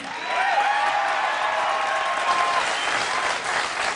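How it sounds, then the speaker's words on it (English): Studio audience on a John Stossel television show breaks into steady, dense applause that swells quickly and holds at a full, even level for several seconds, with a few faint whoops mixed in. "There was big applause for that."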